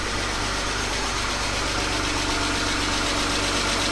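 BMW E36 engine idling with a slightly tappy edge, a steady loud close rumble with faint ticking running evenly throughout, no voices.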